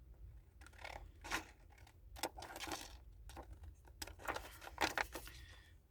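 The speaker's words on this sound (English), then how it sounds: "I get my scissors and I'm going to cut that out." Scissors cutting out a paper shape at close range: a string of quiet, crisp snips and rustles in irregular bursts, several distinct cuts with brief pauses between them.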